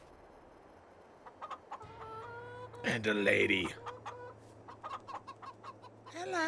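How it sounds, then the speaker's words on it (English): Chickens cluck and a rooster calls in a Farming Simulator 22 Halloween farm scene, several sharp bursts with one loud call in the middle, while a person talks over them. "Oh no, I see chickens."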